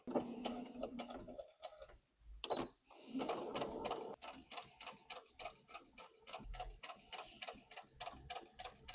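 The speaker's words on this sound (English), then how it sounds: "And then I shall top stitch this down." A sewing machine top stitches a fabric tote bag, giving a close mechanical whir in short runs before settling into a rapid, even ticking rhythm.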